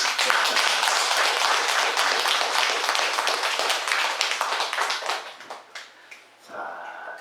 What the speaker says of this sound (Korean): 다시 한번 박수 한번 치고.